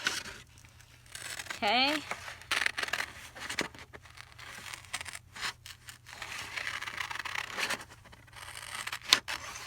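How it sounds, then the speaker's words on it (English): Scissors fussy cutting along the edge of a paper page, soft intermittent snips and paper rustling up close, with a brief spoken word near the start. "we're going to come down here and we're going to fussy cut this edge"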